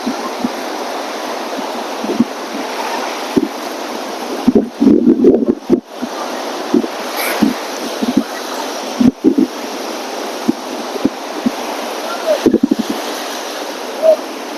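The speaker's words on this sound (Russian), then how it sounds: "Ветер сильнейший, конечно." Strong wind buffets the microphone on an empty beach during a storm, with sea waves surging and crashing continuously; the roar stays loud throughout, gusts pulsing unevenly.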